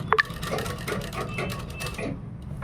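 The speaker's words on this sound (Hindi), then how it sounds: "पूरे में इसमें हम सिलाई लगा देंगे" A sewing machine stitches a kurta made from a dupatta, a short burst of rapid, even mechanical clatter running close and steady after a couple of sharp clicks.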